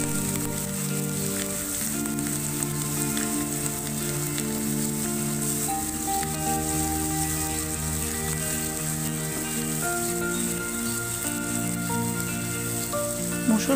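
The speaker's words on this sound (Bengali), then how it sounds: "এগুলো এখন আমি হালকা ভেজে নিব যাতে আদা ও রসুনের গন্ধ না লাগে।" Ginger and garlic fry lightly in a pan, giving a continuous, even sizzle like steady rain, close and unbroken throughout with no talk.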